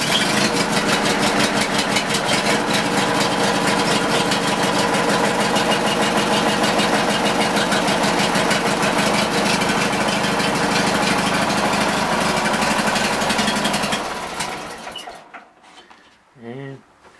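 A 1999 Yard King garden tractor engine, choked and cold-started at 31 degrees, runs at a steady loud idle close by for about fourteen seconds, then shuts off and falls quiet apart from a few faint sounds.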